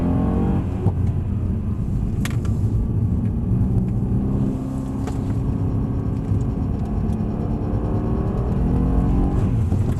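A Mercedes-Benz car accelerates hard around a track, its engine a steady, loud rumble close by with a rising drone that holds through the whole stretch, no talk over it.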